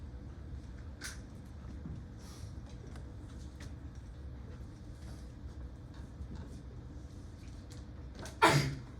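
A single abrupt sneeze bursts out near the end, loud against a quiet, rumbling room background.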